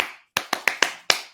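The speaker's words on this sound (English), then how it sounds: "Y'all see she clapping?" Five sharp hand claps in a quick, slightly uneven sequence, close and crisp, with no talking over them.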